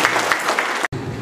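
Audience applause at a customer-service training session at a university, a dense burst of clapping from a seated crowd that cuts off briefly near the end, then resumes more softly.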